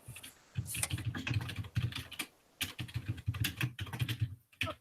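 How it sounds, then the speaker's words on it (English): Rapid typing on a computer keyboard during a meeting, dense bursts of close key clicks in quick runs separated by short pauses, with no talking. "So somebody's typing fast."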